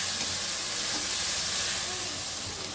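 Ginger-garlic paste hits hot oil in a frying pan with shrimp and onion, giving a loud, continuous broadband sizzle and hiss that holds steady throughout, close up and with no talking.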